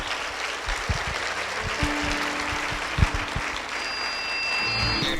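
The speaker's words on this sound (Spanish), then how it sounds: "Vamos a darle un fuerte aplauso al Señor" Loud applause from a church congregation during a Spanish-language worship service, steady dense clapping for about five seconds with a few sharper claps standing out, no talk over it.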